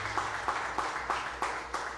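A church congregation applauding during a worship service, a fairly soft, steady patter of clapping with a few sharper claps standing out at a regular rhythm.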